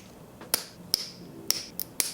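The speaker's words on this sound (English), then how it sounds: "I'm just using these clippers to take them off." Nail clippers snip gems off gel nails at close range: five sharp, quiet clicks spaced unevenly over a couple of seconds, one a quick double click, with no talking.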